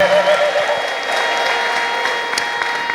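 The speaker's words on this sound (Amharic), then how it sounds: "ከዚህ በላይ እልልታና ጭብጨባ ስጡ" Church congregation clapping and ululating in praise, a dense, loud wash of applause with high trilling cries running through it, sustained throughout.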